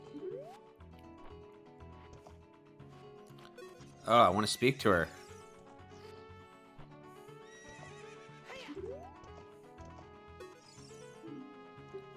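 A horse in the video game Zelda: Ocarina of Time gives a short, loud whinny near the middle, under game music and light talk.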